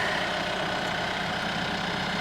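A tractor engine runs steadily while powering a tractor-sized post driver, a continuous low idling drone close by with no talk over it.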